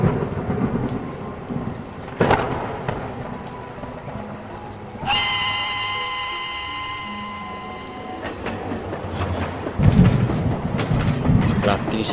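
Heavy monsoon rain hisses continuously, broken by sharp nearby thunder cracks, with a drawn-out horn-like tone midway and a voice narrating over it.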